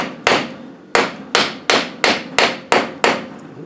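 Eight sharp metallic hammer blows strike a chisel against a tight ring on an Adwest steering box during a rebuild, spaced unevenly about half a second apart, close and loud with no talk.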